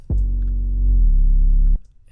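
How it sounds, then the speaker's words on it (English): A single Smoke 808 bass note from an Ableton trap beat booms deep and loud for about a second and a half, its pitch dipping slightly midway before it cuts off cleanly. "I also changed the 808 from the Angel 808 to the Smoke 808."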